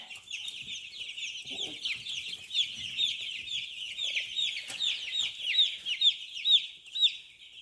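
Young chicks in a brooder give a steady stream of high, rapid peeping chirps, close and fairly loud, with brief handling noises underneath.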